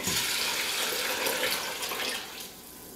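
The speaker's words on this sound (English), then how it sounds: "Then I'm going to add all the water." Water pours steadily into a pot for Greek lentil soup, a loud continuous splashing rush that eases slightly toward the end.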